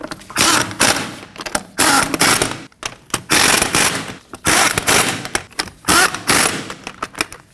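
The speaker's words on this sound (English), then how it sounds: "that'll help hold the wheel in while I put the other lug nuts on. And we'll snug those down in a star pattern." A hand ratchet snugs the wheel lug nuts on a 2015-2024 Ford Edge 2.0L, in repeated short bursts of fast clicking separated by brief pauses, close and fairly loud.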